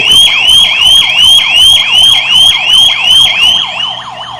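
A home security device sounds its zone 1 alarm, a very loud, fast, warbling electronic siren that repeats in quick cycles, then fades near the end. No voice is heard over it.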